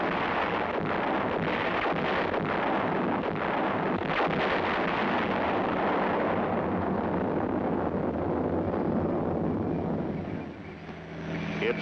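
Field artillery guns firing, a dense continuous roar of blasts and rumble at steady high level, sounding distant and washed together, with no talk.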